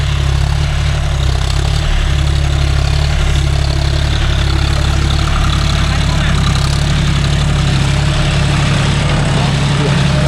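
A John Deere 5045D 4WD tractor pulling a nine-tine cultivator through a coconut grove drones loudly and steadily up close, with a low continuous engine rumble throughout.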